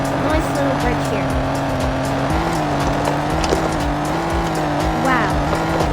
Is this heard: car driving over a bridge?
yes